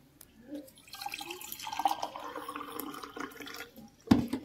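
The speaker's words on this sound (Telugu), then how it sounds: "దీంట్లో కూడా వాటర్ వేస్తున్నా చూడండి" Water is poured into a glass in a quiet trickle, building gradually, ending with a sharp clink of the glass.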